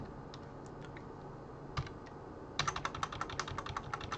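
A computer keyboard typing a name in a Python programming lesson: quiet scattered taps at first, then a quick close run of about a dozen keystrokes near the end, with no talking.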